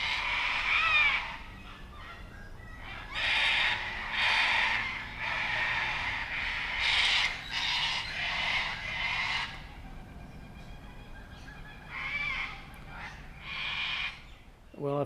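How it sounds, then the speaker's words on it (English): Cockatoos screech harshly in repeated loud bursts nearby, agitated and upset. The calls come in clustered waves with short pauses between them, in an outdoor setting beside a home car workshop. "What is going on with these cockatoos?"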